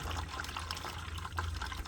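Sauerkraut brine runs from a barrel tap into a bucket as a steady, soft gushing stream of liquid, continuous and fairly quiet throughout.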